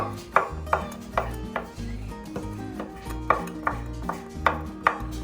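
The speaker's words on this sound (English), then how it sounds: "Now we're gonna take our brisket out here. We're just going to chop it up." A knife chops brisket finely on a cutting board, with about a dozen sharp, evenly spaced thuds close by and no talking.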